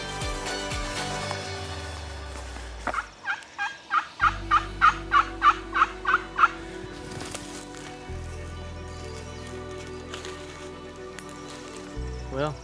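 Wild turkeys gobble at the edge of woods during a hunt: a rapid burst of about a dozen rattling gobbles, fairly close, with rain pattering and brief low voices around it.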